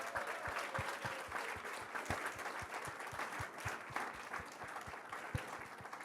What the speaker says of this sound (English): We should give them another big round of applause.